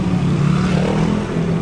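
A motorcycle engine idles and revs steadily nearby as it is brought out, a continuous low throbbing hum with no pause.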